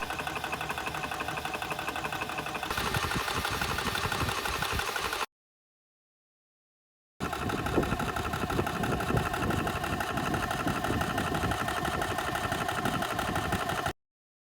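A Smaco S700 mini scuba tank compressor runs with a steady, close mechanical drone and rapid rattling hum, cutting out for about two seconds before resuming and stopping again near the end.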